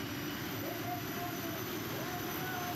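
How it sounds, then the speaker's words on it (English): Turbine-powered pulling tractor making its run at the 2018 ETPC Eurocup finals at Great Eccleston, a steady distant roar and whine that holds level throughout under a broad noisy wash. "Second of our turbine machines tonight."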